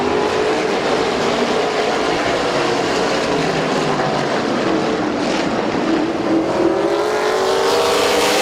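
Race cars roar around a short speedway oval, a loud continuous engine drone with rising and falling pitch as cars pass through the turns, no voices heard.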